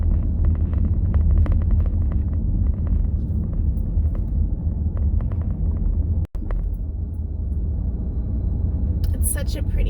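Car cruising along a park road through Paynes Prairie Preserve State Park, a steady low engine and tire rumble heard from inside the cabin, broken by one brief dropout and a faint rattle near the end.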